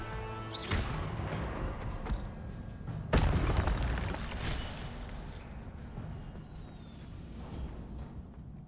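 An Incendio fire spell goes off in the Hogwarts Legacy video game, a whooshing burst followed by a heavier boom a few seconds later, then a rumbling fiery tail fading under game ambience.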